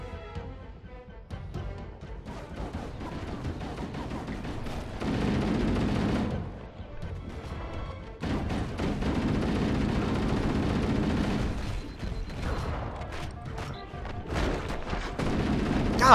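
Gunfire and explosions in the Halo video game, dense bursts of shots and booms over about sixteen seconds, with sparse game noise between.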